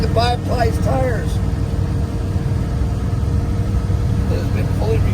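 A 1957 Ford Thunderbird on bias-ply tires drives along with a steady, loud engine and road rumble throughout, while a voice talks over the continuous drone.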